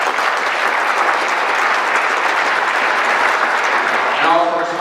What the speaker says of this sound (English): I want to give everyone a round of applause,